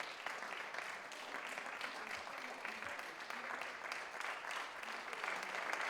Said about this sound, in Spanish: Y comenzaban entonces los aplausos desde los balcones, desde las ventanas, un reconocimiento sanitario.